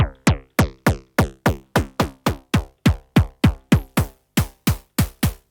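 Elektron Digitone FM synth operator with high feedback, played as a steady train of about seventeen short, sharp, noisy hits with quick decays, loud and close with no voices.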